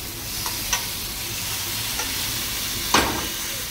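Meat sears in a hot pan, giving a steady, close sizzle with a few soft clicks and stirring scrapes.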